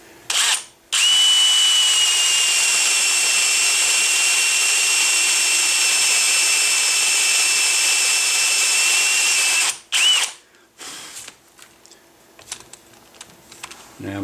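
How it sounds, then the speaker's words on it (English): A spade bit bores holes in a wooden patchbox at a gunsmith's bench in Williamsburg, one long steady whining drill run of about nine seconds, loud and close, followed by a brief restart and quiet handling noises. "by using a spade bit, I'll just start drilling a series of holes"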